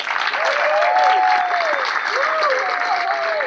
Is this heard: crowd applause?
yes